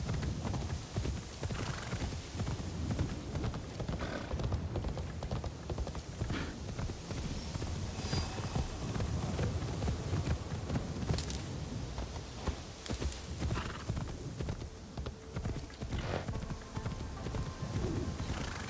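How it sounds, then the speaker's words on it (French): Horse hooves clip-clopping steadily in a video game as a rider travels to work, with occasional whinnies over a dense, continuous game soundscape of constant loudness. "Je fais du cheval tous les jours comme ça pour aller au travail."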